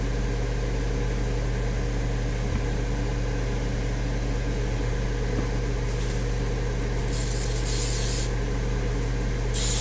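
Cooking oil spray hisses onto taquitos beside an air fryer, with a few short, bright spritz bursts near the end over a steady, loud background hum.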